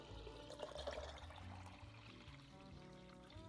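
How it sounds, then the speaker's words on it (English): Eight cups of water poured into an orange agua fresca mixture, a steady, continuous splash and trickle into liquid, fairly quiet and with no talking. "you're gonna add 8 cups of water"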